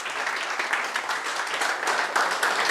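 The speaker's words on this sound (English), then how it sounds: "Round of applause for Eleanor." An audience at a software testing meetup's lightning talks claps for a speaker coming up, a steady ripple of many hands, moderately loud and sustained throughout.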